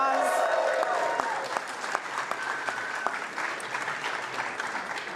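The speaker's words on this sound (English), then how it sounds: "Can we give that a round of applause?" A round of applause at a State Department Pride Month event, steady clapping from an audience with a few sharper individual claps standing out, while a voice is heard briefly at the start.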